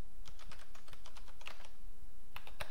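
Fingers type on a computer keyboard in quick, uneven bursts of clicks, close and fairly quiet, with a short pause before a final flurry of keystrokes.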